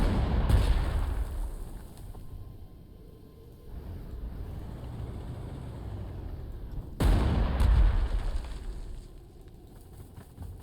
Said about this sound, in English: Big artillery on excellent position and entrenched.